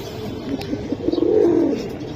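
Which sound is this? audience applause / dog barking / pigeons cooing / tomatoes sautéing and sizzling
pigeons cooing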